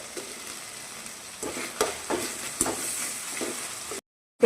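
Four green chillies sizzle and fry in a pan as they are stirred, giving a steady close hiss broken by a few louder scraping stirs, then the sound stops abruptly.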